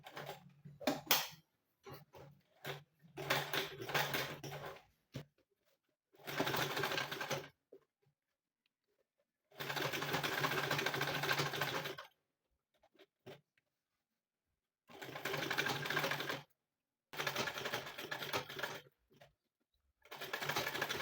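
A sewing machine top stitches a handbag in close, rapid mechanical bursts of a few seconds each, separated by silent pauses as the fabric is repositioned.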